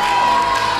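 A live concert audience cheers and shouts in a brief, loud, dense burst, with a sustained whistle-like tone over the crowd roar.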